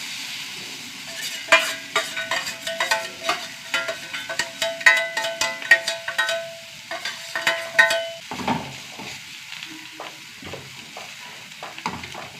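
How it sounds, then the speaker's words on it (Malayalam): Two eggs fry in a pan for an egg masala thoran while a spatula stirs and scrapes briskly, with rapid clinking strokes over a soft sizzle, close and fairly loud, slowing near the end. "ഇതിലേക്ക് 2 മുട്ട ഒഴിച്ച് കൊടുക്കട്ടോ"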